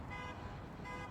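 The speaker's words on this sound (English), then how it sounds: "Someone's got their horn honking." A car horn honks somewhere outside, a faint, steady tone held throughout the short moment against a muffled indoor background.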